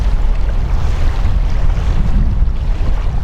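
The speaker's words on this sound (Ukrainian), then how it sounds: "вітер шалений, таки залишився" Loud, steady wind roars across an open microphone outdoors, with a low rumbling buffet that stays constant throughout.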